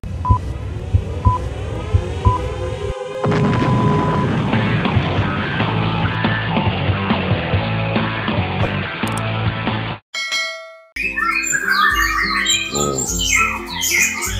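Canaries sing at a bird training school in Tanah Abang, Jakarta, with bright chirps and trilling song over a busy, dense background, broken by a brief gap and then more jumbled calls toward the end.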